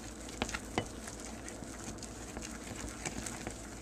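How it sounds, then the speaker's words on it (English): Marshmallows are stirred in a pot as they melt into chocolate fudge, making soft, faint scraping and bubbling with a few sharp clicks of the spoon against the pan near the start. "I'm adding the marshmallows. And I'll stir a little."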